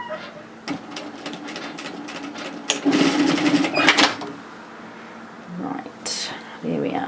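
An overlocker stitching fabric for a wrap-front bodysuit, giving short rapid mechanical bursts with clicks between them, fairly close, while a quiet voice speaks in places.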